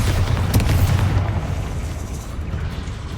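A Bombarda blasting spell goes off in Hogwarts Legacy, a loud booming explosion that hits at once and then rumbles and fades over a few seconds.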